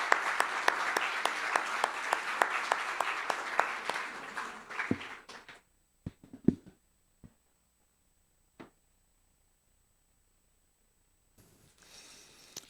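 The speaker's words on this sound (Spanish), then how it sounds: "Vamos a darle un aplauso a Jonathan Godoy, por favor, para recibirlo." Audience applause at a church marriage conference, a dense run of claps for about five seconds that thins into a few scattered claps and thumps, then near silence with faint room noise and murmur at the end.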